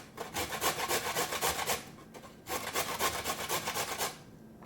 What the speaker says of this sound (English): I find it goes pretty quick if you just use a grinder.